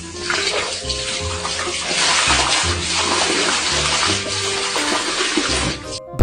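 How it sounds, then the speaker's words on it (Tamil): Water gushing from a tap turned on by a dog, a steady full splashing stream that runs throughout and cuts off at the end, close and fairly loud. "பைப்பை திறந்து அதுவே குடிச்சுக்கும்."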